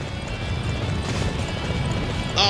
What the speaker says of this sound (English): it's time for me to race my horse and try not to get caught in the sunset